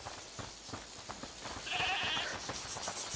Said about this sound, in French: Écoutez, c'est la chèvre du monsieur?